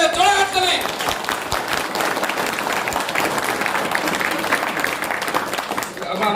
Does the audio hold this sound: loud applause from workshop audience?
yes